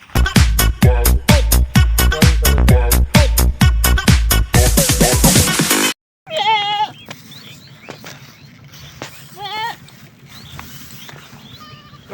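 A goat bleats a few times close by in a quieter stretch that follows a loud, rhythmic musical passage, with some background noise between the calls.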